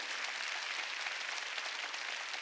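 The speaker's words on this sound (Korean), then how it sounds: "박수 좀 쳐줘요 이 사람들." Congregation clapping during a Wednesday church service, a close, continuous, even roar of many hands that holds steady the whole time.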